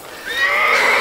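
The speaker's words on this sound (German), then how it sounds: "Du hast recht, Vater. Es ist nur ein Pferd." A horse in an audio drama gives a single loud, close whinny that rises and holds a shrill, wavering pitch for about a second, with no voices over it.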